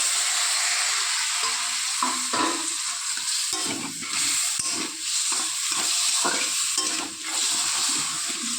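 A splash of water poured into masala frying in a pan for a Bengali fish curry sets off a loud, steady sizzle and hiss, with stirring scrapes throughout and no talking.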